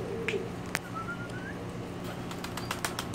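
A blue dancer pigeon coos in short, soft bursts against a steady outdoor background, with brief wing flaps and faint chirps from other birds nearby.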